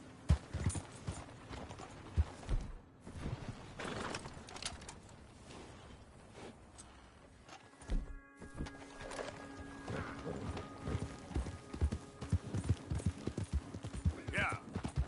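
Horse hooves clip-clopping at a steady trot in the open-world western game Red Dead Redemption 2, a continuous close rhythm of hoofbeats with faint birds in the background and a voice briefly speaking over it.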